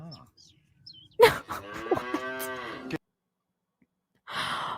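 Cows mooing, one long loud drawn-out bovine low near the middle, preceded by faint sounds and followed after a pause by another shorter call.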